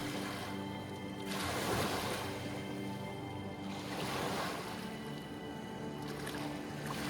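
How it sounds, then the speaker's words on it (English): Monsoon river waves of the Cauvery washing against the bank at Galibore, Karnataka, in slow surges, swelling and receding twice amid a steady rushing background, with some wind noise. "In monsoon, the water level arises and it forms wave on the bank."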